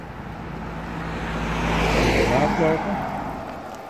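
A car drives past a husky's walk, swelling to a broad rush near the middle and fading again, with a low steady rumble beneath.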